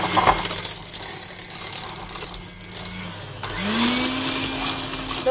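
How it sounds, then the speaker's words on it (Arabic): Raspberry muffin batter is mixed with a motorized whirring hum. The tone drops as the speed eases off, then climbs again to a steady, fuller drone. "وغادي نخلط ثاني عاوتاني ونخلطو مزيان تينسجمو"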